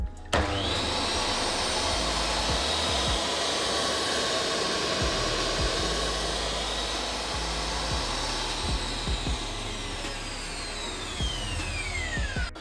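DeWalt D24000S wet tile saw running for a straight cut with no water added yet, a loud steady motor whine with a grinding blade edge holding throughout, close and continuous with no talk.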